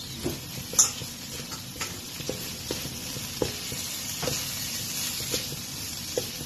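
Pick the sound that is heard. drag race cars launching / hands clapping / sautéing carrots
sautéing carrots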